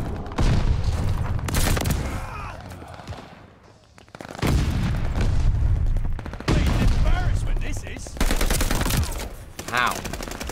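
Rapid machine-gun bursts and single shots crack in the Call of Duty Vanguard video game, loud and close in several clusters with short pauses, while players talk over the firing.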